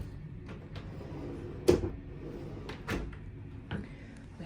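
A cabin drawer on the MSC Seaside cruise ship, in a Yacht Club balcony stateroom, opens and shuts in a few dull knocks and slides at close range, with a person talking over it.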